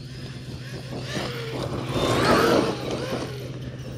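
A Traxxas Maxx V2 RC car with a Castle 1520 1650kv motor on 6S accelerates through taller grass, its electric whine rising and swelling to a peak mid-clip before easing off, heard at moderate distance over a steady background hum.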